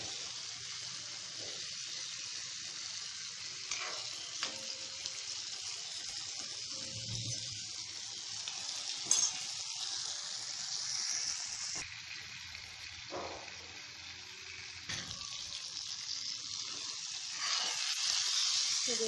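Okra (bhindi) frying crisply in oil, a continuous bright hiss of sizzling with a few light clicks and scrapes, close by and steady, growing slightly louder toward the end.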